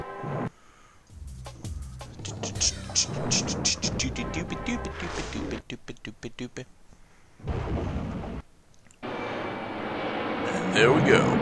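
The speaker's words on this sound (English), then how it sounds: "And there we go, plane crash." A plane crash in the Remember11 video game sounds as a loud, rumbling roar of aircraft noise with booming impacts and crackling bursts, broken by abrupt cuts and a rising final rush, while someone talks over it.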